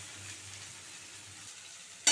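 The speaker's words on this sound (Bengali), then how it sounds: "মশলাটা ভাজা ভাজা হয়ে এসেছে" Spice paste for a jackfruit curry fries quietly in a pan, a soft steady sizzle with faint stirring and a brief louder scrape at the very end, with no talk.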